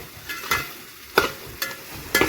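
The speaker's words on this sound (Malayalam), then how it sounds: "സവോള ചേർത്ത് കൊടുക്കാം." Onions frying in a pan for a crab roast, a steady close sizzle broken by several sharp stirring scrapes at regular intervals, with no voices.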